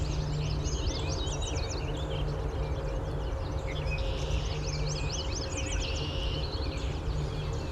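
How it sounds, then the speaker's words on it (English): Several birds call in a busy outdoor chorus, including red-winged blackbirds, with high trilling phrases in bursts over a steady low rumble of background traffic. "Red-winged blackbirds."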